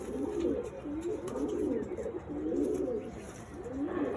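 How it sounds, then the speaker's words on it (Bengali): Pigeons in a Madras pigeon loft coo in soft, repeated rolling phrases, several birds overlapping at close range against a steady low background hum. "এটা আমার খুব পছন্দের পায়রা"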